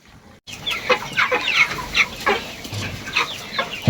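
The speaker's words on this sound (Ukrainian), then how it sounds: "Ось мої бройдери набирають вони вагу вже краще, звичайно." Broiler chickens clucking in a busy flock, overlapping soft calls continuing steadily, close by with a faint hum behind.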